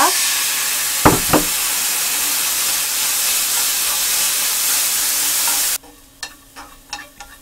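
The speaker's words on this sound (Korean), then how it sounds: "여기다가 당근 넣고요. 소금, 소금간 해주고요. 볶아주세요." Julienned carrots for gimbap sizzle loudly in a hot pan, a constant close frying hiss that abruptly cuts off near the end, leaving a few scraping stirs and clinks.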